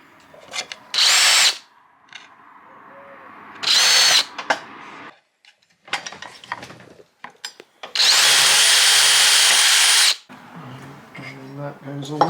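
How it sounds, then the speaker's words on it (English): Power drill with a large bit boring pilot holes while fitting a Lagun table mount in a van, several loud sustained bursts of a few seconds each separated by quieter handling clatter and brief talk. "A large drill bit, which is the same size as the hole there. I'm just going to make little pilot holes."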